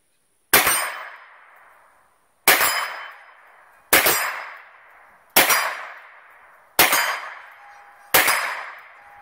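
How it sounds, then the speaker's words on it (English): Six sharp metallic clangs from 9mm rounds fired by a Ruger carbine striking a steel plate, each ringing and decaying over roughly a second, spaced a second or two apart, with no talking. "We're just going to shoot at this plate right here."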